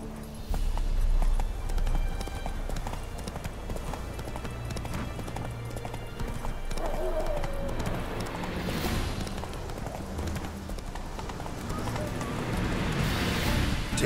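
Roach the horse galloping in The Witcher 3, with steady rapid hoofbeats close and loud throughout, and a low rumbling background underneath.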